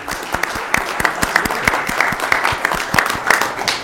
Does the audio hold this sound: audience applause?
yes